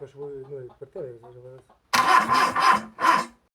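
A voice speaks briefly, then an engine that has sat unused for a long time cranks and catches in four loud, rough chugging bursts before cutting off; carburetor trouble.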